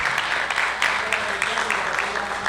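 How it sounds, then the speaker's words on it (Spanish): Audience at a Quds Day solidarity event clapping for a welcomed conference speaker, a short burst of steady, moderately loud applause from a room of people. "Un aplauso para ella."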